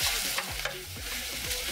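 Meat stir-fried in a pan gives a dense, continuous sizzle with repeated scraping and tossing strokes in a quick rhythm, close and loud, with no talking.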